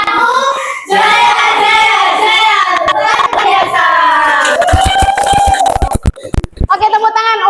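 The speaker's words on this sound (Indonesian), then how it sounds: "tepuk tangan untuk kelompoknya Hafiz dan Luna." High-school students in a classroom cheer and shout together, then break into a burst of rapid hand claps near the end, loud and close with overlapping young voices.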